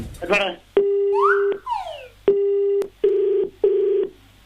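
Electronic keypad beeps on a phone call through an automated menu: a short burst of tones, then several loud, steady beeps with gaps between them, close and clear.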